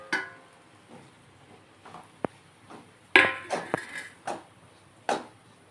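A spoon stirring bread pieces in melted ghee in a pan for bread halwa, heard as scattered scrapes and knocks of metal against the pan, with a few sharper clanks between quieter stretches.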